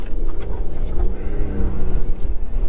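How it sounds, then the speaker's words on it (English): A 2018 Ford Fiesta car engine thrums with a steady, low rumble and whir, continuous and fairly loud throughout. "Let's just have a little bit of this engine noise."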